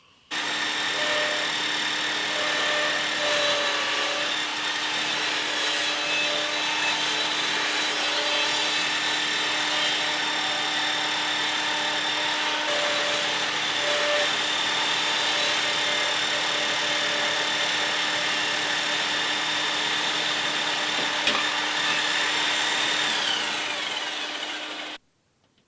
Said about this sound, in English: I am going to go all the way through with a 2mm drill